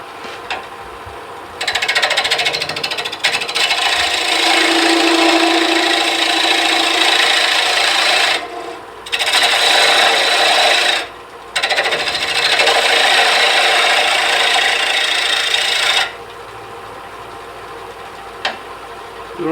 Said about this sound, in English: And now we're going to make a tenon.